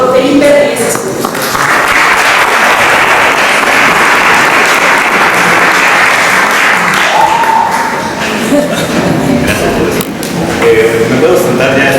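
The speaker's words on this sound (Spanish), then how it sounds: "Demos un aplauso al doctor Felipe Reyes Escudo." Loud, steady audience applause at a keynote lecture for a doctor, a dense wash of many hands clapping that runs almost the full length, easing slightly before a final swell.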